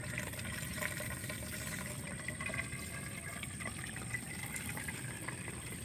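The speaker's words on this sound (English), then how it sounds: "Now the tube is filling." Water runs steadily into a tube while fermenting plant extract on a suburban homestead, a continuous bubbling, trickling fill heard close and alone without talk.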